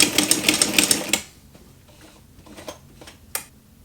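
A walking foot sewing machine stitching leather with a universal needle, a rapid burst of close mechanical clacking for about a second, then it stops, leaving a few scattered taps and clicks.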